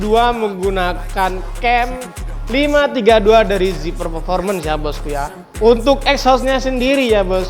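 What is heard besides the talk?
No everyday noises stand out.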